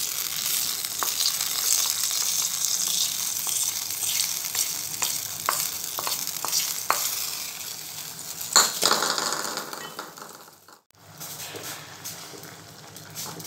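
Cashews and raisins sizzle in hot ghee in a pan while preparing adai payasam, a steady bright frying hiss with occasional stirring clinks, running loud and continuous before briefly dipping near the end.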